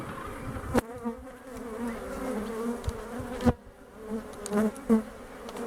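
Honey bees buzz steadily at close range while a colony is worked during queen handling, with a continuous droning hum and a few sharp clicks and knocks from equipment.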